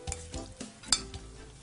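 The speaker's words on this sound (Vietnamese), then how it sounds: "Rồi, chúng ta sẽ trộn đều lên như vậy." Chicken and Vietnamese coriander salad tossed with dressing in a bowl, heard as soft wet stirring and a few scattered clinks, close and quiet.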